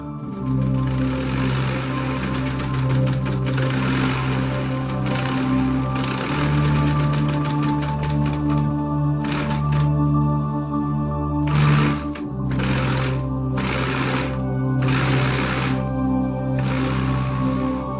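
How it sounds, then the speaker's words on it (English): A homemade V8 solenoid engine spins steadily, giving off a continuous rapid mechanical clatter with rhythmic clicking and a humming undertone, fairly loud and close throughout, with no talking. "David Robert demonstrates this beautifully with the V8 solenoid engine of his own creation."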